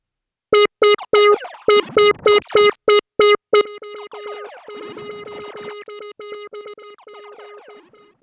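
A bright synth tone plays a run of short plucked notes, then continues through delay and reverb effects in a smeared, echoing wash with repeating trails and a long decaying tail.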